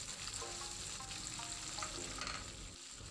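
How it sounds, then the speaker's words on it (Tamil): Indian-style sambal with tamarind water, cooked for threadfin bream, simmers in a pan with a steady, soft bubbling sizzle that stays faint and continuous, with no talking. "சம்பல் கொதிச்சிக்கிட்டு இருக்கு"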